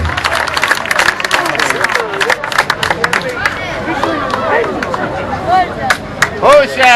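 A concert crowd in Pompeii's Rione Fontanelle breaks into loud applause and cheering, with dense clapping and crowd hubbub while a voice speaks over it.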